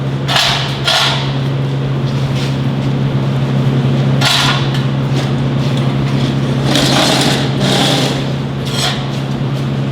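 A MIG welder lays a stacked pass in a multi-pass weld at lowered wire speed, making a loud, continuous crackling sizzle with sharper bursts of spatter throughout.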